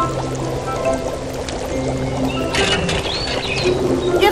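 A continuous splashing pour of water onto a fire in a Barbie island princess video game, steady and fairly loud beneath musical tones and chirpy game effects.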